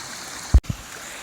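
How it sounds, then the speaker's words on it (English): Fast, high stream water rushes steadily past a beaver trap in March, a constant close watery hiss broken by a single brief thump. "the water's so fast and high right now"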